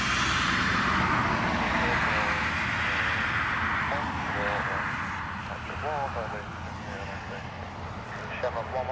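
A plane takes off at Dublin Airport: a loud, steady broadband engine roar builds and then slowly fades, with radio voices talking over it.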